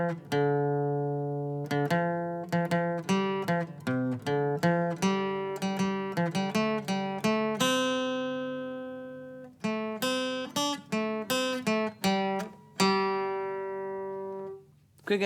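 Acoustic guitar picking the verse melody of the Irish song Óró 'Sé do Bheatha 'Bhaile, single plucked notes in a steady tune at moderate volume, played alone with clear gaps between phrases.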